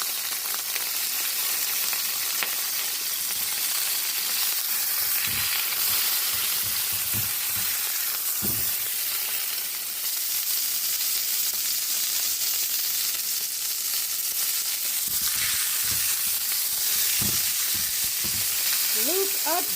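Beef searing in a pot for pot roast gives a steady, loud hiss and sizzle, with occasional scraping and knocking as the meat is moved.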